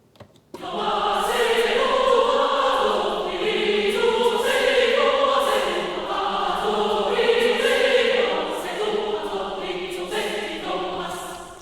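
A women's choir sings the soaring part of an orchestral arrangement of Final Fantasy VII's battle theme, with sustained, swelling vowel tones that hold steady and loud for the whole stretch, no talking.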